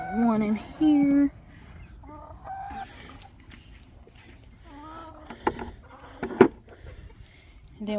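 Chickens in a coop, with hens sitting on roosts and nests, giving several close, loud drawn-out clucks and agitated calls, then scattered softer clucks and brief squawks.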